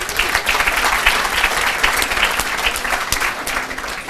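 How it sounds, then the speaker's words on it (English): Loud, dense applause fills a graduation ceremony hall as degrees with merit and distinction are announced, a sustained crowd clapping without pause. "You will get tired if you have to clap after every sentence"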